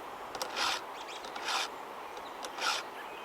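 Chainsaw chain cutters being filed by hand, three distinct rasping strokes at a steady pace, close and fairly quiet with gaps between them and no talk.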